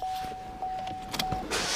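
A power seat motor in a Chevrolet Equinox whirs steadily for over a second at close range, then stops, followed by a few faint clicks and a rustle.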